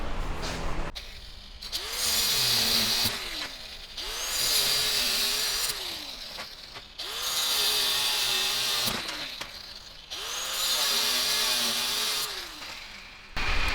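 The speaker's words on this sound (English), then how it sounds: "I'm going to grind this." An angle grinder working on a cut threaded rod, running in four long bursts of loud rising and falling grinding with short pauses between.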